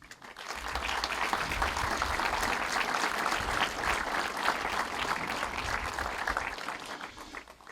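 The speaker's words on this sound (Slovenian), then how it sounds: "Vam lep aplavz, dragi Tomaževčani, dajmo jim" Sustained applause from a crowd gathered at the opening of a restored homestead in Savci, Sveti Tomaž, rising quickly and holding dense and even for several seconds before tapering.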